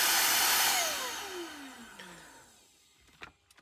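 Shark cordless vacuum cleaner, freshly repaired, whirs alone as its motor winds down from a steady whine, the pitch sliding downward until it fades into a few quiet clicks and handling knocks.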